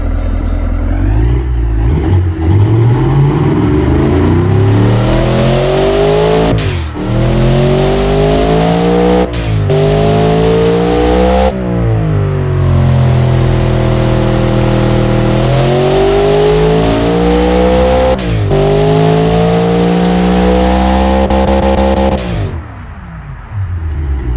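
A loud 1111 hp hypercar engine in the Automation game revs continuously, pitch sweeping up and down through repeated climbs and drops, with a few abrupt gear-change breaks, no talking.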